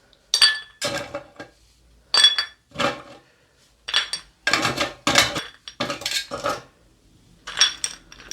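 Ice cubes clink and rattle against a cocktail glass being chilled for a gin-based Pink Lady, in separate sharp, close bursts with quiet gaps between them.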